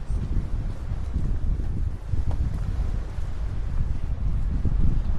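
Gusty wind buffets the microphone with a low, rumbling roar that rises and falls continuously at Port de Pollença, with no voices heard.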